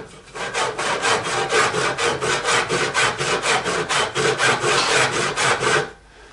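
A hand saw cuts through wood in steady, rapid back-and-forth strokes, the rasping loud and close for about six seconds before stopping abruptly.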